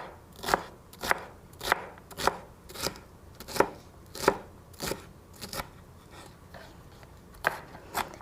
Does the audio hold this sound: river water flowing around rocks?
no